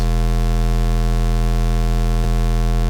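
Synthesizer noise generator putting out a loud, unbroken buzzing hum layered with static hiss, steady and close for the whole stretch, with one brief click near the end and no voices.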